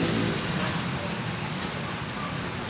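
Heavy rain pours down steadily during a bicycle ride, a dense, loud, continuous hiss close around with no break.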